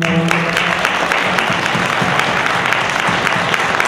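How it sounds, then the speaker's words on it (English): Audience at a panel discussion in Vermont gives the panelists a round of applause, a dense, even burst of clapping that holds steady throughout, with a voice briefly heard at the very start. "if we could maybe give them a round of applause."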